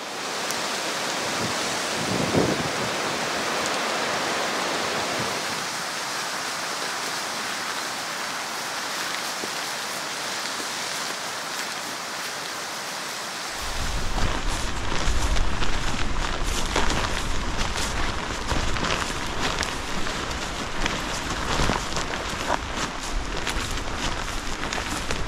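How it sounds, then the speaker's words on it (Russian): Strong wind roars through a forest in a continuous rushing hiss, growing louder and fuller partway through as a heavier gust sweeps in. "И ветер сегодня, похоже, еще сильнее"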